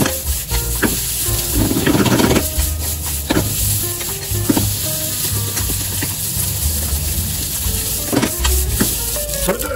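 Tuna curry fried rice sizzling and frying in a pan while a spatula stirs and scrapes through it, a steady crackling hiss with irregular clacks of the utensil against the pan.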